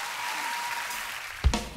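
Audience applause in a Korean TV music show studio, an even patter of clapping throughout, broken near the end by a sudden low thump.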